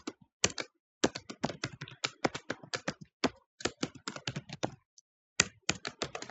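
Rapid bursts of keystrokes on a computer keyboard, close and crisp, typed in quick irregular clusters with brief pauses, no voices.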